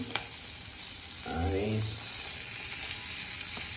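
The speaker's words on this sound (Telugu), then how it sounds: "Capsicum, tomato, shallow fry. ఇప్పుడు మనం కొంచెం దీన్ని ఫ్రై చేయబోతున్నాం." Onion, capsicum and tomato shallow fry in oil for a paneer dish, a steady close sizzle with a short stirring scrape in the middle.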